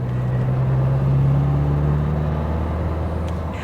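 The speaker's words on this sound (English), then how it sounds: "I'm sure you can hear the engine note." A remapped Ford Aspire diesel compact sedan, tuned to 160 HP, drones steadily while driving, with a loud, continuous low engine hum and road rumble throughout and no talk.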